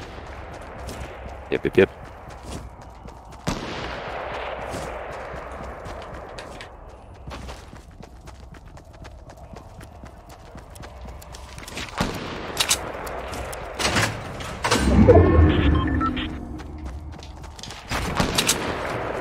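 Gunshots in Fortnite ring out as scattered sharp cracks, some near and some distant, spread across a long stretch with a denser burst toward the end, while players talk between the shots.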